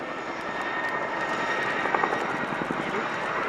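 A 14-ton Chinook helicopter descends onto a marker at the RIAT Fairford airshow, giving a continuous heavy rotor and engine drone with faint rhythmic blade thumps. A commentator talks over it.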